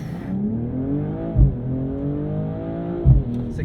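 A 2022 BMW M240i does a launch control start, its engine revving in rising pitch sweeps broken by two sharp gear-shift thumps, loud and close.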